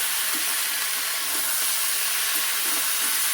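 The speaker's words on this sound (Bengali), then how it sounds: "এটা ভালো করে আমি ভেজে নেব আমি চাপা দেবো চাপা দিয়ে দিয়ে ভেজে নেবো" Cauliflower and potato pieces frying in a covered pan for a Bengali egg curry, a steady loud hiss of oil with faint periodic bubbling underneath, continuous and unbroken.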